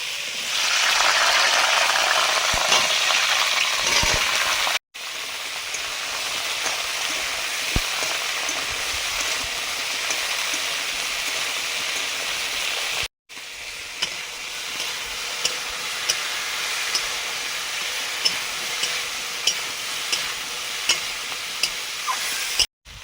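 Okra frying in a pan with tempering spices and dried chilli, a loud, steady close sizzle with faint stirring scrapes, cut by two brief breaks before it carries on.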